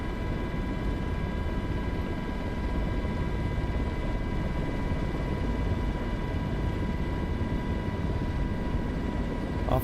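Helicopter engine and rotor running steadily, a continuous broadband whine and rumble with steady tonal hums, loud and close throughout, no voices.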